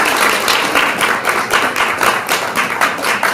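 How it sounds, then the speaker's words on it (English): An audience claps for a panel of women at a women's forum, a dense, steady burst of applause lasting a few seconds without speech. "Please give them a big round of applause."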